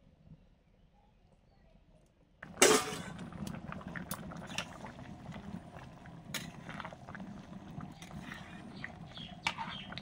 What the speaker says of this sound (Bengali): টকবক করে মাংসের কড়াটা ফুটছে,